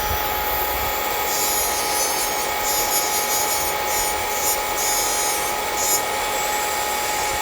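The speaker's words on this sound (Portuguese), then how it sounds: "E vou fazer o lixamento da parede lateral." Steady abrasive rubbing of a straight nail file sanding the side wall of a gel nail during a manicure, continuous and close with no talk.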